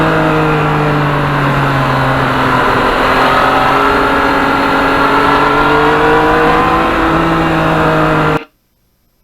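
A 2020 Yamaha MT-09 motorcycle riding along with a loud, close engine drone, holding steady tones with slight shifts in revs, then cutting off abruptly near the end.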